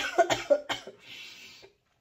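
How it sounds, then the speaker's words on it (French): A single hoarse cough, close up, trailing into a brief breathy exhale, followed by silence. "je vais tousser"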